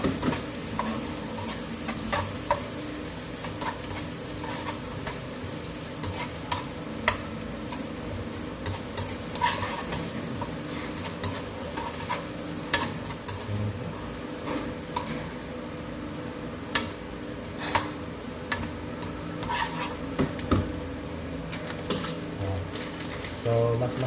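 Onion and garlic sautéing in a hot pan for pinapaitan, a steady close sizzle with frequent scraping stirs and utensil clicks running throughout, no talk.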